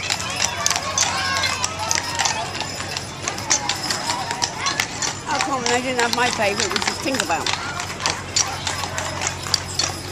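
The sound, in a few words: hooves of miniature horses walking in a county fair parade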